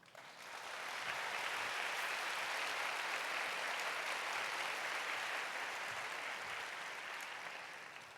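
Welcoming applause from a church congregation during a young adults' worship service, a sustained even roar of many hands clapping that swells in over the first second, holds steady, then tapers off near the end.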